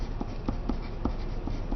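Pen or pencil writing a name on paper during a paper weaving craft, a steady scratchy scribble with short repeated strokes, close and fairly quiet, no talking.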